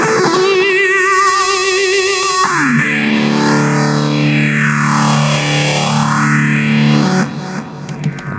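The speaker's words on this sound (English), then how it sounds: "Delay with hall reverb." Electric guitar through a Zoom 707-II multi-effects unit set to delay with hall reverb: sustained distorted chords swelling with repeating echoes and a long, washy reverb tail, loud and alone, with no talking.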